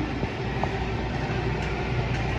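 A Lionel brand CSX toy train runs along its track with a steady, even rolling rumble and faint clicking, moderately loud and close, with no talking.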